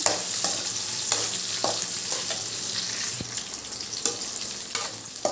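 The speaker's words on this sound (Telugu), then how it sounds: "ఇదిగోండి జీడిపప్పు చక్కగా వేగిందండి, అలాగే పచ్చిమిర్చి కూడా" Cashews and green chilies fry in oil in a pan for vegetable fried rice, giving a steady, close sizzle with occasional sharp clicks and scrapes from stirring.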